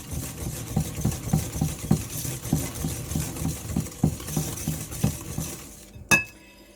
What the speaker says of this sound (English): And the milk. And I'm going to mix that in.